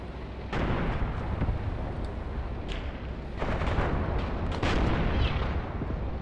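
A tank and an anti-tank gun trade fire in the Graviteam Tactics Mius Front war game, producing repeated heavy booms and rumbling blasts that overlap into a loud, continuous barrage.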